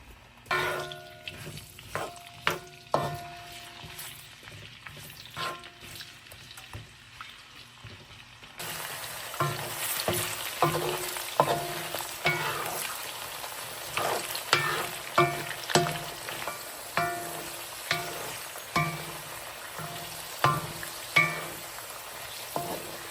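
Potatoes fry in a pan as steady sizzling with frequent scraping stir clicks, quieter at first and then a louder, denser sizzle.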